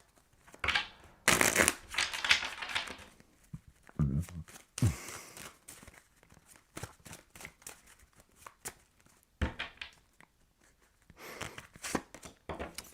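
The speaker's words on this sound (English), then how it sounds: "Last shuffle here." Tarot cards are shuffled in repeated bursts of riffling and slapping, close and crisp, with quiet gaps and soft breathing between them.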